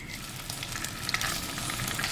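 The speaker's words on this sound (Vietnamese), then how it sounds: "Tiếp theo mình cho cá vào chiên sơ nè." Anchovies are lightly fried in oil in a pot, giving a steady, close sizzle and crackle with faint stirring, and no voices over it.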